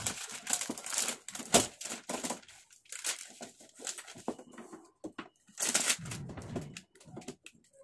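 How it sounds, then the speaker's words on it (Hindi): Adhesive sticker being peeled from the front cover of a 32-inch smart LED TV during a backlight repair, heard as close, irregular crinkling and tearing bursts with short pauses between pulls. "अब हम इसे स्टिकर को हटाएंगे।"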